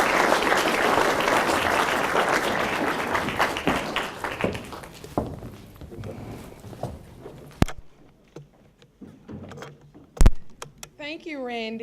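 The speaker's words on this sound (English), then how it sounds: "Can we give Randy another, or Mr. Williams, another round of applause?" A strong round of applause fills a university lecture hall after a guest speaker, loud at first, then thinning into scattered claps, a few sharp isolated slaps and brief voices near the end.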